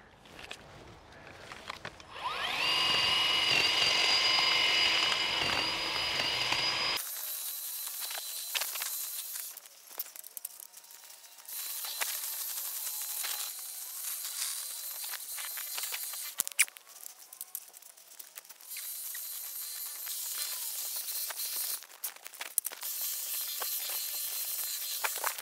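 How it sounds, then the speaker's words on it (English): A Stiga electric hedge trimmer runs and cuts through a hedge, giving a steady, bright buzzing hiss with brief crackling snips. There is a louder motor stretch at first, then continuous cutting noise. "that's going to make it a lot easier for me to trim that hedge"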